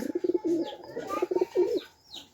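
High flyer and racing homer pigeons coo close by, a continuous run of throaty, rolling calls with soft chirps mixed in and no one speaking.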